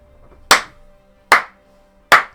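Three slow, deliberate hand claps ring out loud and close, evenly spaced with quiet gaps between them and no other sound around them.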